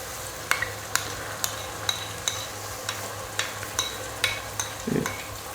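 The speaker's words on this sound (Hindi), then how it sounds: "जो हमने टमाटर का और सब्ज़ मिर्च का पेस्ट बनाया था वो हम डाल रहे हैं" Tomato and green chili paste sizzles in a pan while a spoon scrapes and taps in a steady rhythm, the frying a constant hiss under the regular clinks.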